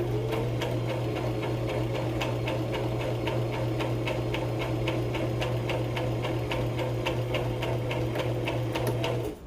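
A sewing machine stitches a vest pattern, running at a steady even pace with a constant motor hum under fast regular ticking of the needle, close and continuous for nearly ten seconds before stopping abruptly.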